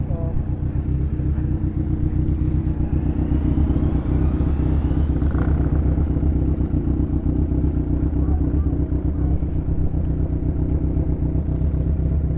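A Kawasaki Ninja 1000cc motorcycle engine runs with an even, continuous throb and rumble close by on a ride to Anda, with faint voices in the background.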